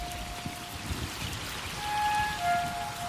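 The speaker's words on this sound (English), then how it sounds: "the rainy season descends on Copan" Steady rain falling during the rainy season at Copan, Honduras, a continuous broadband patter and pour that swells slightly toward the end, with no one speaking.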